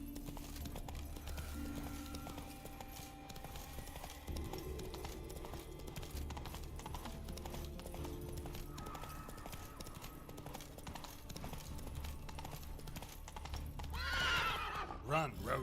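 Witcher 3 game horse Roach galloping with rhythmic clip-clop hoofbeats under steady in-game music and ambience, ending in a loud whinnying neigh; a voice talks over parts of it.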